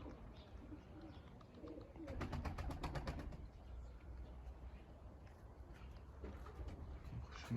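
Pigeons coo softly against quiet outdoor ambience, with a brief rapid flutter of wings in the middle, as though birds are taking off nearby.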